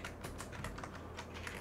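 A Delux T9 one-hand gaming keyboard is typed on, giving a quick, uneven run of close plastic key clicks at low volume with no talking.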